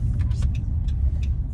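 A car drives up to a safari park at a zoo, its engine rumbling low and steady from inside the cabin, with faint voices talking over it.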